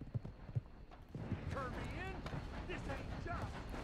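Horse hooves clip-clop in Red Dead Redemption 2, irregular steps close by under a soft ambient bed, with a brief whinny-like tonal call in the middle.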